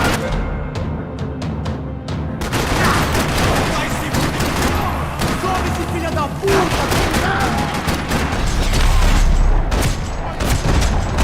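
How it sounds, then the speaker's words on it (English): Dense gunfire fills a parking lot in the Max Payne 3 video game: loud, continuous rattling bursts and overlapping shots, with sharp cracks sounding near throughout. "Another parking lot rattling with gunfire."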